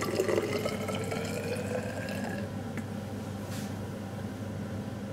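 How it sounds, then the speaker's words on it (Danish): Methanol is poured into a measuring vessel toward 50 ml, a continuous trickling liquid stream that thins and fades partway through, close and without voices. "Allerførst afmåler vi lige 50 ml metanol"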